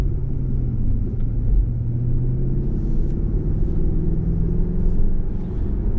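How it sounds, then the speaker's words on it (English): A Porsche Panamera with the optional sport exhaust switched on gives a steady, deep, low engine rumble that holds evenly for several seconds with no voices over it. "The Sport exhaust system is a nice touch, which is optional on the Panamera. Just turned it on and you can hear that growl, the low rumble."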